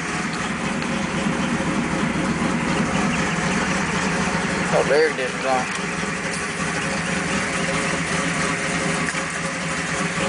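A 1995 Chevrolet Camaro Z28 T-top with 134,000 miles idles at about 1,000 rpm, a steady, close, throaty rumble that runs throughout while a person briefly talks over it.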